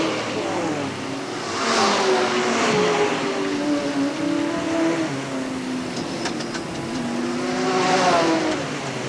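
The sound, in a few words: sportsman race cars racing at Hales Corners Speedway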